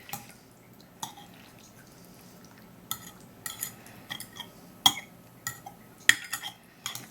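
A utensil stirs a sour cream cucumber salad in a bowl, giving soft, scattered clinks and wet taps at an uneven pace, with quiet gaps between the strikes.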